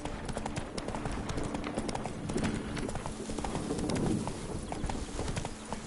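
In The Witcher 3: Blood and Wine, the horse Roach trots with a continuous, even rhythm of hoof clops over a steady outdoor game ambience, close and moderately loud.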